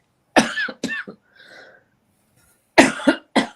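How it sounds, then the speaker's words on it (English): Several sharp coughs in two bursts separated by a quiet pause with a faint breath, close and loud, with no talking. "I don't know where that cough is coming from"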